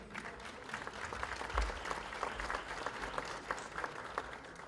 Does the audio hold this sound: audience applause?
yes